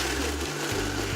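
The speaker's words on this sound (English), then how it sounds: "we'll get that blender going." A kitchen blender whirs loudly and close while blending apple and acai, its motor pitch shifting as the contents churn, with no talking.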